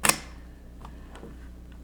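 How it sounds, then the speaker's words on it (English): A Zenit-C 35mm film SLR fires its shutter once with a sharp, close mechanical snap, followed by faint small clicks and handling noises in a quiet room. "rearm your shutter, take your second photo"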